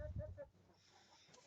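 Farm chickens clucking close by in a brief burst of short repeated calls, fading into quieter low-level barnyard sound.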